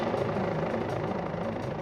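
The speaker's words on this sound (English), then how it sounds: "the police helicopter, is homeward bound" A police helicopter's steady rotor throb and engine drone, continuous and moderately loud, with no voices.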